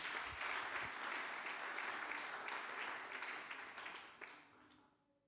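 Church congregation applauding and cheering at a French-language thanksgiving-week service, a sustained broad wash of clapping that holds steady for several seconds, then thins and fades out near the end.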